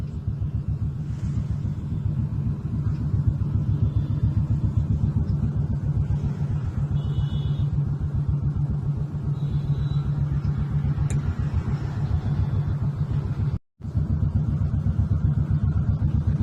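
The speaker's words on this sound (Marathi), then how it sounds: "Koregaon park ब्रिजवरती traffic" Road traffic stuck in a jam on the Koregaon Park bridge in the evening, a steady low rumble of idling and creeping engines close by, with a brief dropout near the end and no talking.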